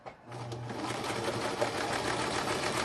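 Sewing machine stitching a bee-themed junk journal: a steady, fairly quiet mechanical whir with a low motor hum runs continuously for a few seconds, alone and close by.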